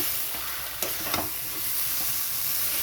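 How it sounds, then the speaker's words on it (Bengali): Taro leaves sautéing in a pan for a prawn mash, a steady soft sizzle and hiss with a few brief stirring scrapes, close and alone. "এরকম কচুর পাতাটা কিন্তু খুব ভালো করে কষাতে হবে"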